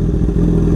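BMW S1000RR sport bike fitted with a Hyperflow exhaust, its engine running with a loud, steady low rumble close by for under a second, no talking.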